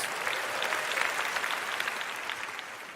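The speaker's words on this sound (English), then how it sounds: "Give all 3 helpers a round of applause." A TED audience at a mind-reading show applauds three on-stage helpers with a full, even roar of clapping that holds steady for the whole short stretch, no voices on top.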